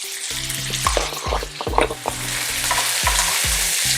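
Onion, garlic, cracked black pepper, ground chili and paprika sizzle steadily in a pan, with a close, repeated scrape and clack of a spoon stirring about every half second.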